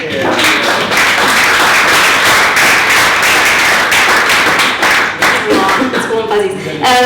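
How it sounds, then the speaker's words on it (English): A comedy audience in Glasgow applauds international students with loud, dense clapping that runs steadily for several seconds before thinning out, with voices rising near the end. "Can we have a clap for everyone who's an international student?"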